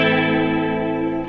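A surf guitar chord rings out with a long reverb trail and a slight whammy bar dip, a single sustained, shimmering strum heard alone.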